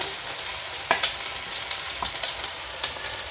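Onion frying in hot oil for spicy street-style Maggi masala, a dense, steady sizzle with occasional sharp pops and stirring clicks, close up and without voices.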